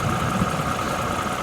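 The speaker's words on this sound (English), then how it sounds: "So let me stop the engine." A car engine idling steadily during a battery and alternator check, a constant low hum with a faint mechanical tick, close and alone without talk.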